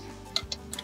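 A ratchet turns a 17 mm socket while fittings are removed during a third-function hydraulic kit install on a Kubota L4701 tractor, giving three quick, sharp, close clicks in under a second.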